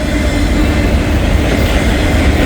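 Freight train auto rack cars roll past close by, giving a loud, steady broadband rumble and rattle of wagons that continues without a break and with no voices.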